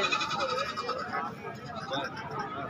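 A goat bleats at a busy livestock market, a faint call nearly buried under steady crowd chatter and someone speaking nearby.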